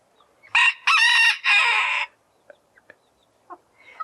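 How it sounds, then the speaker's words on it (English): A rooster crows once, loud and close, in a three-part drawn-out call, followed by a few faint clucks and small bird sounds. "the rooster announces that he's here"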